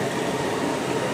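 A metro train arriving at a station in Kuala Lumpur, a steady broadband rumble and rushing hiss, fairly loud and continuous, with no voices.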